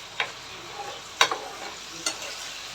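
Kochu shak greens stir-fry in a pan with a soft background sizzle, broken by a few sharp scraping stirs of a spatula spaced about a second apart.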